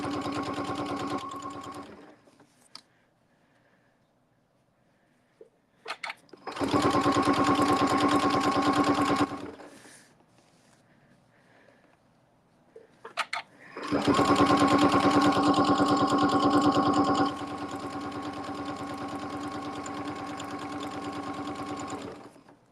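A sewing machine stitches down a log cabin quilt block in three separate runs of fast, buzzing stitching, each several seconds long, with quiet pauses between them.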